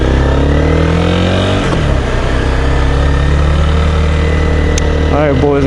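A motorcycle engine runs loud and close through a multiple-curves riding exercise, its steady droning note sagging and then climbing as the rider changes speed, with a brief higher whine near the end.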